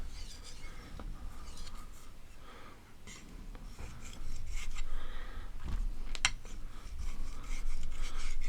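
A Helle Nord knife is sharpened freehand on a 5000-grit whetstone, soft close rasping strokes of steel across wet stone that repeat in an uneven rhythm and grow a little louder partway through.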